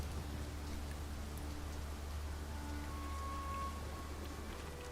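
Rainfall in the video game Dragon's Dogma 2, a steady hiss of rain with a low rumbling undertone, continuous and even for the whole stretch, no voices.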